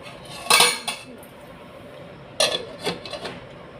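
A lid clanks onto a metal pot of cooking vegetables (beans), giving two short metallic knocks about two seconds apart with quiet background between them.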